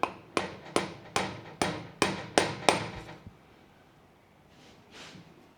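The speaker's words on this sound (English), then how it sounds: "I'll get a knockometer and we'll give them a tap in." Hammer taps on parts being driven into blind holes of a small block Chevy 434 stroker engine: eight sharp metallic knocks in a steady rhythm, close and loud, then quiet room tone.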